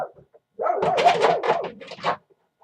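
A loose dog gives a single drawn-out, wavering bark or howl lasting about a second and a half, fairly close and clear against near silence.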